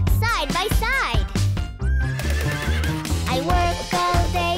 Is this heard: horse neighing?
yes